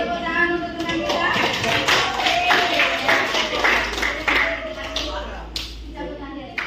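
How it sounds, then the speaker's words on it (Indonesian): A classroom of students claps for a group that has just finished presenting. The clapping is loose and uneven, mixed with a sustained voice and scattered taps and thuds, and it thins out toward the end. "Oke, tepuk tangan untuk teman kita."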